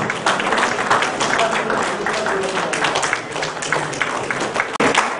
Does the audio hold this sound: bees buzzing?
no